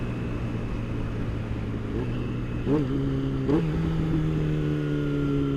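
Yamaha R6 sport motorcycle engine droning steadily while riding, with a smooth sustained tone that climbs in pitch as it revs up twice, loud and close with road and wind noise underneath.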